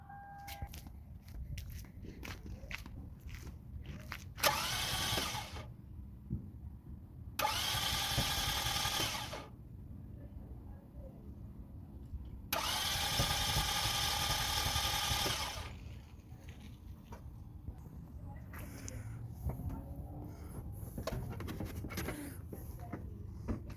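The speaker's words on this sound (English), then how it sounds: "Okay, so I'm gonna start the engine now and see." A 2004–2010 Toyota Sienna minivan engine is cranked after a timing belt and water pump replacement, giving three loud, harsh whirring bursts of a few seconds each, separated by quieter gaps in a garage.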